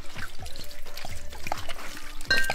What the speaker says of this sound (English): So they just pouring a bunch of stuff.